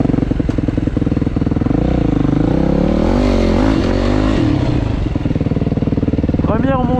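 Motocross motorcycle engine climbing the first hill of a cross track, loud and close, with a steady throbbing idle that rises into a revving pull, then drops back and ends with a brief short burst.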